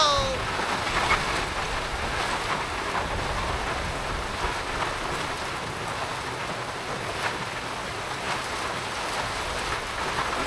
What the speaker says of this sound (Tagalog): Parang bagyo na uli ah.